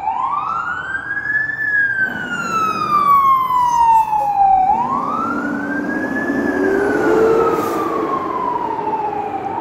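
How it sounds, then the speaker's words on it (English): A loud emergency siren wails in long sweeping rises and falls, with a second, lower siren tone joining partway through, over road noise on Jarvis Street near Moss Park, downtown Toronto. "Certainly a lot of sirens in the city right now."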